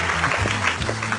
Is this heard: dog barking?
no